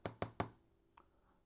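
Three quick sharp knocks in a row tap punched pieces of heavy-duty leather out of a Zenith paper punch, close and crisp, followed by a faint small clatter as the bits fall, with no talking.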